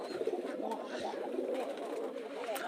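Pigeons on a pigeon farm coo in a steady, low murmuring chorus, fairly close and soft, with no voices over it.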